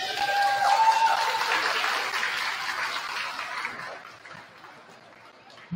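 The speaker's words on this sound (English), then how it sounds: "Once again, a round of applause for all our senior cheerleaders." Audience applause for senior cheerleaders at a high school sports event, a broad wash of clapping that starts strong and gradually thins and fades over several seconds.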